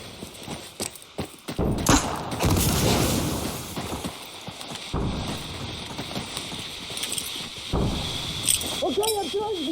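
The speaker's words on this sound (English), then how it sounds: "fire the chemical mortars on this position" Chemical mortar rounds fire in the video game Insurgency Sandstorm, with loud thuds and bursts of gunfire, then sustained rumbling blasts. Voices come through faintly near the end.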